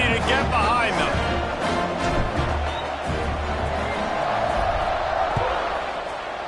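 A packed football stadium crowd roars steadily before a kickoff, a dense wash of cheering and noise that carries throughout, with an announcer talking over it.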